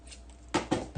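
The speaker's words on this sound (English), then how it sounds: "for me, I use my fabric scissors" Fabric scissors cutting Wildfire beading thread while making hoop earrings, heard as three quick, crisp close-up snips in a row after a brief quiet rustle.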